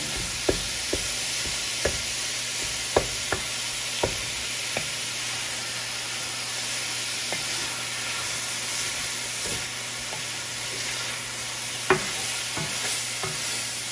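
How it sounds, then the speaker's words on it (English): Ground meat browning in a pan for tamale pie, a continuous soft sizzle with a low steady hum under it and scattered spatula knocks and scrapes, close and fairly quiet, no talking. "While I'm browning my meat"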